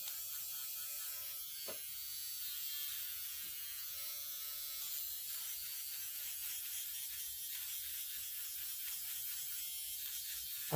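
A Flawless Brow electric eyebrow trimmer buzzes faintly and steadily while grabbing at eyebrow hair, with small ratchety clicks and a sharper snag near the start.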